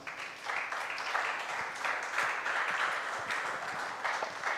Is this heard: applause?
yes